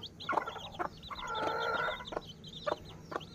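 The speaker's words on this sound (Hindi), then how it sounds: "ये है मेरे दूसरे चिक्स, ये दिखें जी माशाल्लाह से," Lasani Aseel chicks and fowl on a home-breeding rooster farm in Sargodha cluck and chirp at close range, with repeated short calls and a longer warbling cluck in the middle, moderately faint, without speech.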